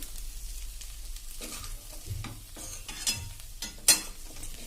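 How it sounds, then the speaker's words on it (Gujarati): Potatoes and poha gently mixed in a pan, soft scraping sweeps and light clinks of the spoon over a faint sizzle, with one sharper metallic tap near the end. "આવી રીતે એકદમ હળવા હાથે આ બધું આપણે બટેટા અને પૌવા મિક્સ કરી લેશું."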